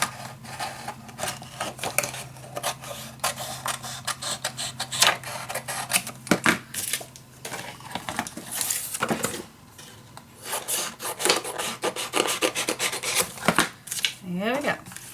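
Pizza box cardboard being cut down by hand for a mini album cover, a busy run of scraping, crinkling and snipping noises with sharp clicks and rustles, close and fairly loud, continuing for the whole stretch.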